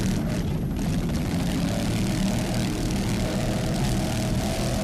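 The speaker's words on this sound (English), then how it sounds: "two 800 horsepower Mercury inboards powering Nick Carter Racing" A 40-foot Fountain racing powerboat in a Super V offshore race, driven by twin 800-horsepower Mercury inboard engines, gives a steady, loud, continuous low engine roar that holds throughout with no talk.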